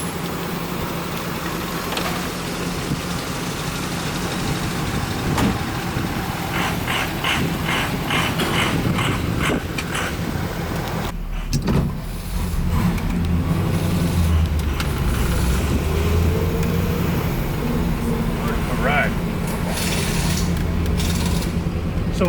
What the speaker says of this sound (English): We're gonna bed the brakes in now and see how she feels.